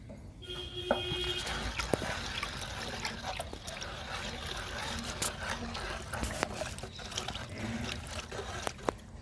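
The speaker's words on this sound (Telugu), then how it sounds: "ఈ మూడు బకెట్లలో డైల్యూట్ చేసుకుందాము లిక్విడ్ని" Liquid groundnut-cake fertilizer is diluted into buckets of water, with faint trickling and pouring, scattered clinks and knocks of buckets, and a few brief tonal squeaks over low background noise.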